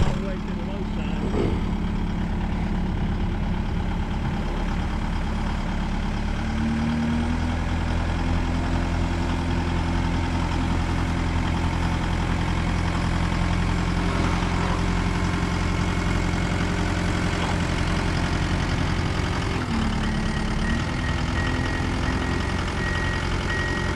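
A truck engine idles and rumbles steadily while backing up a trailer, a loud low drone that holds for the whole stretch with slight shifts in pitch and a voice talking over it.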